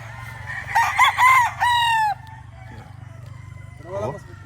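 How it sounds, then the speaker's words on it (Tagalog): Roosters crow loudly near by, several overlapping calls in quick succession, then a fainter crow follows over a low steady rumble. "mga manok ni GTP, yan"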